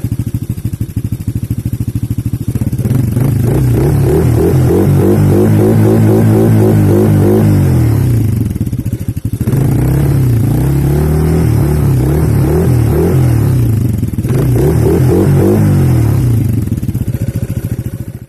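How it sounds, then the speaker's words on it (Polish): Motorcycle engine revving loudly and close, with repeated rising and falling throttle blips separated by short drops to idle, no talking. "Posłuchajcie jeszcze dźwięku silnika"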